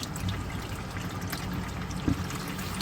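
Water trickles and dribbles steadily at close range from a 50-year-old engine's drain plug onto a driveway, a soft continuous pour with a small splash near the end.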